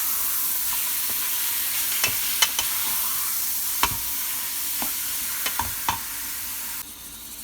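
Ground beef (80-20) cooks with sautéed vegetables in a pan, giving a steady close sizzle with scattered sharp clicks and taps from stirring.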